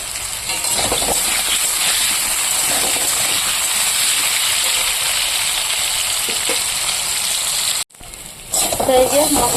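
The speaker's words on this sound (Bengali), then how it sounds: "আলুটাকে আমি লাল লাল করে ভেজে নেব" Potatoes frying in oil until reddish-brown, a steady dense sizzle running nearly throughout, close and fairly loud, with a brief drop near the end before the crackle resumes.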